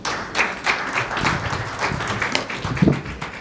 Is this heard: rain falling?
no